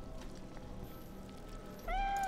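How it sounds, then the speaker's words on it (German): In the fantasy role-playing game Divinity: Original Sin 2, a cat gives a short, clear meow near the end, rising above a quiet, low ambient game backdrop. "Wo haben wir denn eine Katze?"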